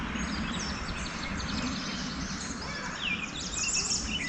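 Birds sing and chirp along a Pennsylvania creek during a canoe trip from Beech Creek to Bald Eagle Creek, with faint high calls overlapping steadily above a constant low rush of water and wind.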